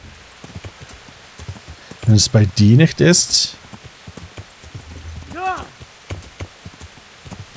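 Hooves clip-clop in a quick rhythm amid sounds from the video game Kingdom Come: Deliverance, while someone talks in German over them and a horse-like whinny briefly rises.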